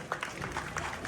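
A school Independence Day celebration crowd claps briefly for a staff member, the applause faint and diffuse with a few soft claps.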